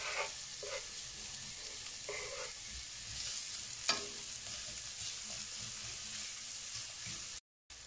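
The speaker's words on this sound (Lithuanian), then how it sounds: "Dabar apkepam kelias minutės svogūnus." Onions frying for a few minutes in oil in a pan: a continuous soft sizzle with occasional stirring scrapes and a single knock, fairly quiet and close, with a brief dropout at the end.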